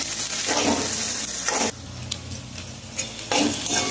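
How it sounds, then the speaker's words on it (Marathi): Chopped onion and green chillies sizzle in hot oil in a pan, with a steady frying hiss broken by periodic scraping strokes of a spoon stirring against the metal. "त्यानंतर आपण हिरवी मिरची कांद्यामध्ये टाकून देऊ। छान असं परतून घ्यायचं।"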